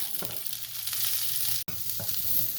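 Cauliflower pieces fry in a pan for an aloo gobhi dish, a steady close hiss of oil with a few stirring scrapes and a brief cut in the sound midway.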